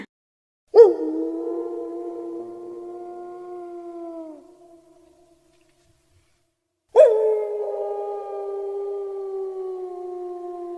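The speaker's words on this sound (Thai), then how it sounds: "อาจจะเป็นเสียงหมาป่าก็ได้นะ" Two long howls, each rising sharply then holding a steady wavering tone before fading, separated by a couple of seconds of silence.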